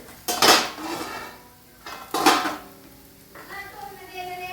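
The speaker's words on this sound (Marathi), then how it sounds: "चला आपण झाकण काढूयात." A metal lid is lifted off a pan while egg thalipeeth cooks, giving two loud clattering clanks about two seconds apart, each followed by a ringing metallic decay.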